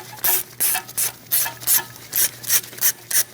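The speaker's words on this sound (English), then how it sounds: "Using a 10mm socket, we're going to remove the bolt for the ABS sensor." A 10mm socket wrench turns out the ABS wheel-speed sensor bolt on the rear wheel hub of a 2011-2026 Dodge Durango, making about ten close, regular ratcheting rasps with short gaps between them.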